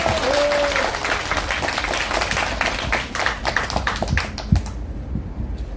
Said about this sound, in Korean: 우리 인지연 대변인 큰 박수 부탁드리겠습니다